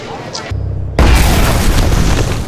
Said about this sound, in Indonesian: Saat sebuah bom meledak di lokasi yang berbeda